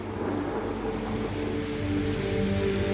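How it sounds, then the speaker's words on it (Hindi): Heavy rain pours down in a forest at night as a dense, constant hiss of rainfall, steady and close throughout with no voices. "जंगल में चलते चलते अचानक तेज बारिश शुरू हो गई।"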